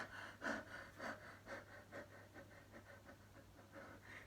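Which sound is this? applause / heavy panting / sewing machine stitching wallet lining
heavy panting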